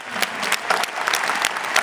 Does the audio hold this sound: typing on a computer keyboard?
no